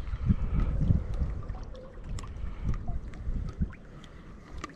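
Wind gusts buffet the microphone outdoors on a Whangamata holiday, low rumbling thumps and bursts of blustery noise near the mic, with faint water in the background and no speech.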